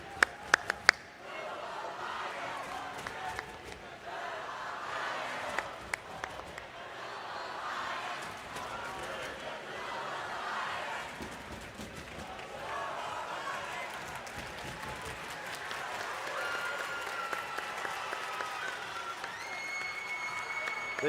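Crowd of robotics competition team supporters at a regional tech event cheering and clapping continuously in a large arena, a broad roar with a few sharp claps near the start, while an announcer talks over it.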